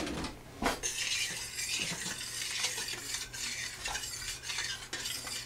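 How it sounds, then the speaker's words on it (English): A spoon stirs grape juice and pectin in a pot for homemade grape jelly, giving continuous scraping and light clinking against the metal, close and fairly quiet. "You will stir this together and bring it to a boil."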